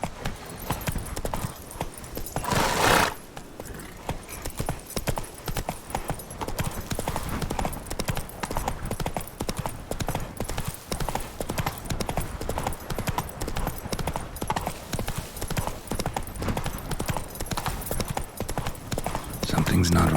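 Roach, the horse in The Witcher 3: Blood and Wine, gallops in a quick, steady clip-clop of hooves that carries on for the whole stretch, with one brief louder burst near the start and talk over the hoofbeats.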